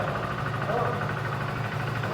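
Hero Splendor Plus Xtec motorcycle idling, a steady low engine drone with continuous even loudness throughout, close by.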